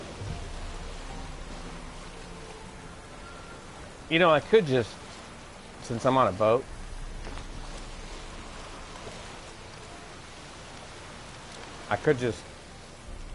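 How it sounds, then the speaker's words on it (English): Rain patters steadily on a boat at sea in The Witcher 3, a soft constant hiss throughout, while someone talks over it in a few short bursts. "I enjoy the rain on the boat."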